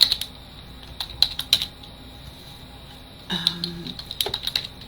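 Fingers tap a computer keyboard in short bursts of close, crisp clicks, with pauses between the runs of typing and a steady faint hum behind.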